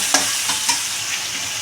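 Onions frying and being stirred in a pan with salt for mutton curry: a steady close sizzle with a few short scraping stirs, no talking.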